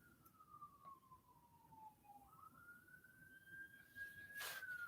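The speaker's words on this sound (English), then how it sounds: "Sirens are going off." Siren of an emergency vehicle wailing at night, one long rising and falling tone that holds steady over low traffic rumble, moderately distant and fairly faint throughout.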